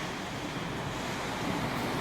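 Ocean surf on the coast near Dongara makes a steady broadband wash, with wind noise buffeting the microphone and no voices.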